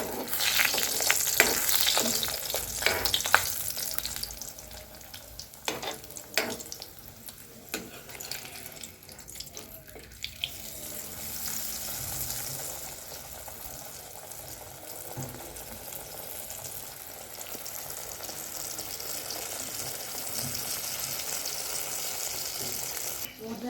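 Pea-stuffed kachori deep frying in a wok of hot oil, a steady bubbling sizzle with sharp crackles and pops early on, settling into a continuous hiss.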